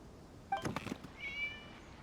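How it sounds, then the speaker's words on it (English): In the Genshin Impact video game a cat gives a short meow, followed by a softer, drawn-out mew a moment later, both faint against a quiet background. "It was just a cat."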